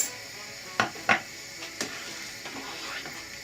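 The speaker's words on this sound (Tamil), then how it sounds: "இப்போ தண்ணி வந்து கொதிக்க ஆரம்பிக்குது." Water in a pot on the stove begins to heat toward a boil for dry ginger coffee, with a faint hiss and a few scattered ticks and pops in an otherwise quiet kitchen.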